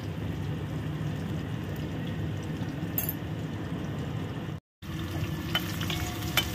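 Slices of pumpkin and eggplant fry in oil in a pan, a continuous low sizzle and bubbling with a few faint utensil clinks, interrupted by one short gap.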